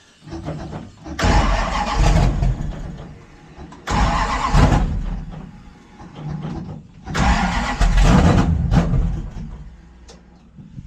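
A 1974 Plymouth Scamp with a big block engine and a carburetor cranks and catches in three loud bursts. It revs rough and strong between pauses at close range.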